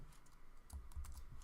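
Quiet, quick keystrokes tap irregularly on a computer keyboard, faint and close, with no talking.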